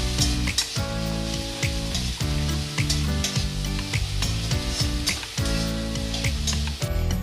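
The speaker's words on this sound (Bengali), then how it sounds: "পেঁয়াজ বাটাটাও আমি ভালো করে ভেজে নেব" Ground onion paste frying in a pan for a Bengali puti fish curry with potatoes gives a loud, close sizzle, with repeated scraping and stirring strokes and clinks over the hiss, and no voices.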